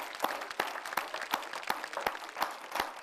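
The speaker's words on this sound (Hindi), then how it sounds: "जरा जोरदार तालियों से स्वागत करें।" Scattered hand clapping from a few people, distinct sharp claps at a moderate, uneven pace over a faint background murmur.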